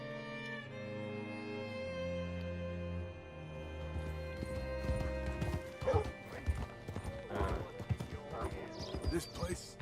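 Horse hooves clip-clop steadily in Red Dead Redemption 2, with a neigh, beneath game music and clattering. A voice talks over the latter half.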